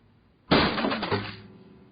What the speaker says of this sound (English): That's actually someone smashing an acoustic guitar.